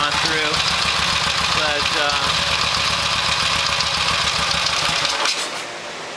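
A 1972 Harley-Davidson XLH Sportster engine idles steadily and loudly up close with a rough, throbbing rumble, then cuts off near the end, with a brief spoken word over it.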